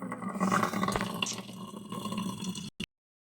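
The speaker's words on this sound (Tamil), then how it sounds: "இப்போ தண்ணி பிடிக்கிறாங்க." Water runs from a tap at a village home as it is collected, a steady rushing stream for a few seconds, then cut off abruptly into silence.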